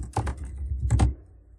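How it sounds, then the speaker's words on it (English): Keys on a computer keyboard are tapped in two quick bursts, close and clear, followed by a short quiet pause. "you just go ahead and you type in what you want to say"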